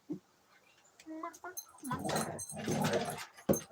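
A pet dog close by whimpers and yips in short, uneven bursts, rising into louder agitated growly vocalizing in a home, with some indistinct voice sounds mixed in.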